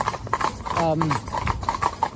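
A young four-in-hand horse team clip-clops along at a steady rhythm, close and clear, with a brief whinny partway through and someone talking over it.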